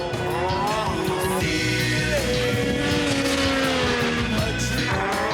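Arctic Man race snowmobiles ripping down a snowy track in Alaska, a continuous loud engine whine with rising and falling pitch as the machines run close together, no talk.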